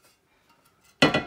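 A heavy cast iron frying pan is handled at a garage sale, giving one loud metallic clunk followed by a second knock after near silence, close to the microphone.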